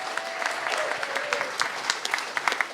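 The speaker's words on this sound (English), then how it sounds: "By the sound of the applause" Audience applause at a Lincolnshire songwriting competition, a steady patter of hands clapping after a winner is named, with a faint voice briefly audible beneath.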